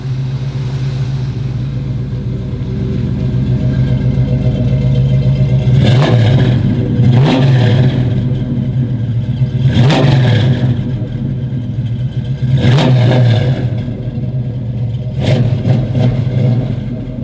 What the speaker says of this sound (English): I'm gonna go ahead and give it a little gas, a little acceleration.